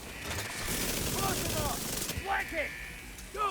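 Rapid submachine-gun fire in a video game, dense bursts of shots running most of the way through, with the player's voice talking over part of it.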